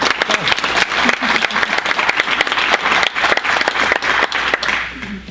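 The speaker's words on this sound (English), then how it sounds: "Clap again for that." At a trustees' meeting, the audience gives a round of applause for the trustees, a loud, steady stretch of close crowd clapping that keeps going for several seconds.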